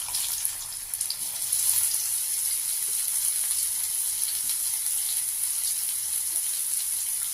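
Pieces of bottle gourd sizzle in hot oil in a pan, giving a steady, fairly faint hiss that runs unbroken throughout with no one talking.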